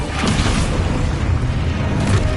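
Deep, booming explosion rumble from an Expulso spell in the Hogwarts Legacy video game, a loud, dense low roar that rolls on steadily for a couple of seconds.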